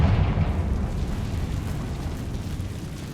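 A Confringo blasting spell explodes in Hogwarts Legacy, a loud, deep rumbling blast that fills the whole clip and slowly fades without a clear end, with no voices.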